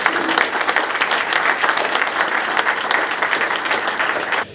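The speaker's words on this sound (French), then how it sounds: "je voudrais qu'on applaudisse Elena parce qu'elle fait un travail remarqua" A crowd at a local community council meeting claps steadily, a dense, close wash of applause lasting several seconds before cutting off abruptly.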